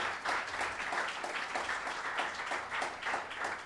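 A church congregation claps steadily throughout, a dense and even patter of many hands that rises and falls slightly, with no voices standing out.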